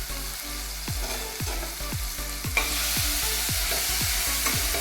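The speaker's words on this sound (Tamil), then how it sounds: "தக்காளி நல்லா பேஸ்ட்டாக வதங்கணும்." Tomatoes sautéing down to a paste in a pan for a Tamil home-style dish: a steady close sizzle, with a regular series of spatula scrapes and stirs about every half second, growing slightly louder partway through. No voices.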